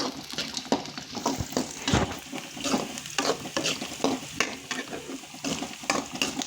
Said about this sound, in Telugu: పప్పండి వేసిన తర్వాత కాసేపు వేపేసుకోండి.